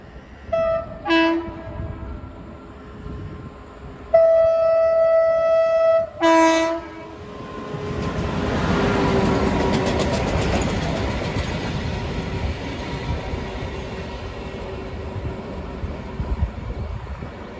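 Spanish freight train hauling a works consist sounds its horn in several sustained blasts, then rolls past with a broad, steady rumble and wheel clatter that slowly fades.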